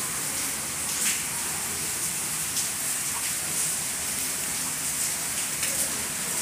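Heavy rain pours steadily over a balcony garden, a dense, even hiss of falling water that holds at a constant loudness throughout with no voices.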